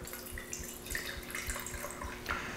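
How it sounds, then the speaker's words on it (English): Duck fat poured from a cooking pan into a small tempered glass jar, a soft continuous liquid trickle with faint drips and light clinks, close and steady with no talking. "I'm going to go ahead and pour off most of the duck fat into the jar."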